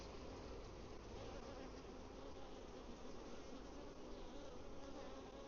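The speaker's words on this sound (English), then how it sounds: "Good population of bees." Steady, dense buzzing of many honeybees close by at an open hive during inspection, a continuous drone with no pauses and no voices.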